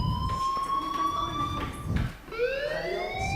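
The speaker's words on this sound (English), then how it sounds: "Hey, do you hear that fire alarm?" Fire alarm ringing in the video game Life is Strange: a loud electronic tone that holds steady, breaks off around two seconds, then sweeps upward again like a siren, with no voices.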